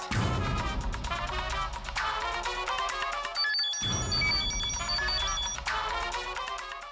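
A phone rings unanswered with a loud, bright electronic ringtone, its melodic pattern repeating in two cycles separated by a brief gap, with no voices over it.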